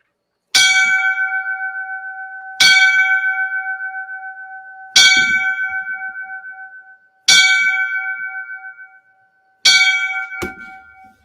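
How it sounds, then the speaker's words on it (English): A bell is struck five times in memory of a firefighter of Ladder 154 who died in the line of duty. Each loud, clear ring is spaced about two seconds apart and decays slowly, with no talk over it. "So I'm going to ring off the 5 bells for him."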